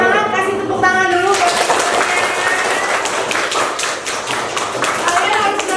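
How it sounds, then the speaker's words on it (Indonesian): Students in a classroom clap together after a group presentation, a dense burst of many hands that thins toward the end, with voices mixed in. "kasih tepuk tangan dulu"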